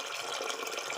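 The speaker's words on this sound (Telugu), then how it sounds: "ఇందులోకి నీళ్ళు వేస్తున్నా అండి" Water poured into a pressure cooker holding soaked green gram for sambar, a brief steady splashing pour, close and fairly quiet, with no talking.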